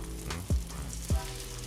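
Chili cheese burgers with melted cheese on top sizzle steadily on a grill, a close continuous crackle broken by two short low thumps.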